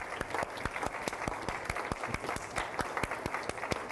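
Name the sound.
congregation applauding in church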